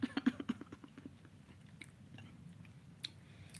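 A person chews food close to the microphone, starting with a rapid series of crisp crunchy bites and then settling into softer, quieter mastication, with no talking.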